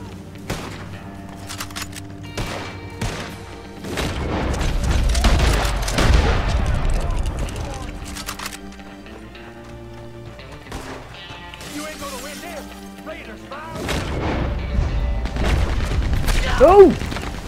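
Automatic gunfire crackles in bursts in the online western game Red Dead Online, with booming impacts and crashes over in-game music and clamour; the rapid volleys swell and fade across the scene.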